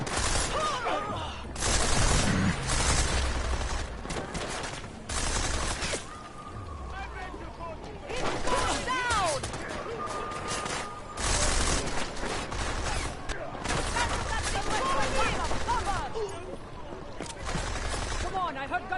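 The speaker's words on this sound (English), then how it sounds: "I heard gunfire." Gunfire in a video game played on its hardest difficulty crackles in repeated bursts and volleys, heard loud and fairly close over the game's background noise and talking voices.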